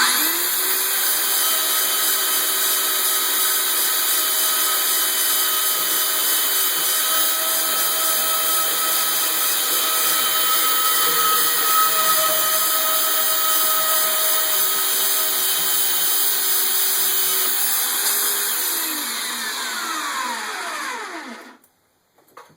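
A Chicago Electric portable band saw (Northern Industrial 56245) fitted with a Milwaukee blade cuts steadily for about twenty seconds, a loud continuous motor whine with a high blade hiss. It winds down and stops at the end.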